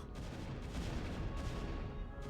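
Photon cannons on the high ground firing in a StarCraft battle, a dense continuous barrage of crackling, booming shots with no pauses and no voices.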